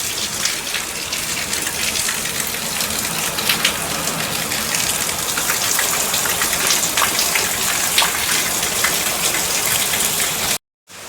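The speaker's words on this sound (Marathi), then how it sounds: "एवढा पाऊस चालू आहे बघा" Heavy rain pours down steadily and loudly, a dense continuous wash of drops drumming on surfaces, cutting off abruptly near the end.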